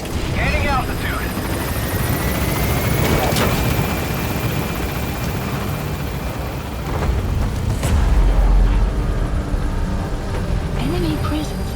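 Pequod helicopter rotor roaring loud and steady in Metal Gear Solid V, a dense low thrum with rumbling swells, while radio voices talk over it.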